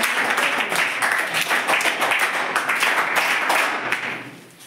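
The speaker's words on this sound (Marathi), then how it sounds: "आपण सुद्धा सर्वांनी त्यांच्याकडे एकदा टाळ्या वाजवून स्वागत करा." A school audience at a Sant Sevalal Maharaj jayanti celebration claps to welcome a guest, dense applause from many hands for several seconds, then fading away.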